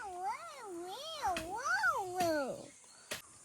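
A cat up in a tree gives a series of long, wavering meows, clear and fairly close, with a couple of sharp clicks or knocks between calls and no talking.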